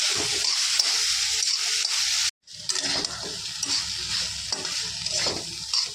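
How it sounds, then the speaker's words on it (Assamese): Potatoes, vegetables and soybean chunks sizzle steadily in a hot pan while being stirred, with scraping and clinking sounds; a short break interrupts midway. "ভাজি থোৱা আলুখিনি দি দিম এতিয়া আৰু চব্জিখিনি লৰাই দিম ধুনীয়াকৈ"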